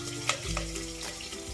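Cumin and green chilli frying in oil for dal khichdi, a soft sizzle with a few quick stirring clinks and a low rumble.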